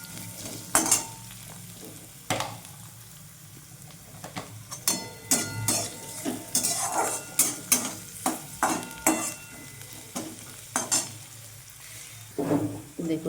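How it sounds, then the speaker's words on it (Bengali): Chopped onions sizzle in a hot pan with repeated close scraping strokes of a spatula, irregular stirring taps over a constant frying hiss, no talk. "পেঁয়াজটাও ভেজে নেব।"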